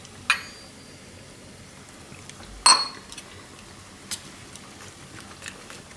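A metal spoon clinks a few times against a bowl while water is stirred into a puffed rice (mamra) vada batter: sparse, faint, separate taps in a quiet kitchen.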